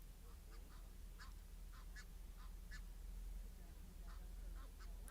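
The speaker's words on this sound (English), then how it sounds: "Do you know what baby geese are called? They're called goslings." Faint, soft peeping and honking calls from a group of goslings repeat in short bursts over a low outdoor rumble.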